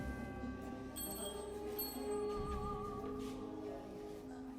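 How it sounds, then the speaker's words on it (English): A bell is rung once, its clear ringing tone sounding near the start and fading out over the next few seconds amid a low background hum. "Well, who rang the bell? I did."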